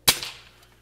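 Crosman F4 air rifle firing a 7.9 grain hollow point pellet through a chronograph, a single sharp loud crack with a quick decaying tail.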